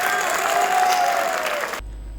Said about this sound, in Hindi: तो ताली बजाओ एक बार जोरदार।